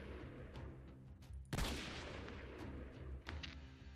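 Gunfire in the Freeman Guerilla Warfare video game: a loud single shot cracks out, then a few fainter shots follow over a low rumbling background, with no talk.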